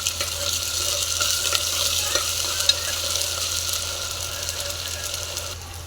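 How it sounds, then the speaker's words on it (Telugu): Ginger garlic paste frying in a pan, a constant bright sizzle with occasional spatula scrapes and faint clicks, steady and close, fading slightly at the very end. "కాస్త అల్లం వెల్లుల్లి పేస్ట్ వేసుకొని ఫ్రై చేసుకోవాలి."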